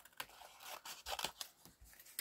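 Scissors snip through paper at a craft table while a paper pumpkin project is trimmed, giving several quick, crisp cuts in a faint, close, quiet recording with no talk.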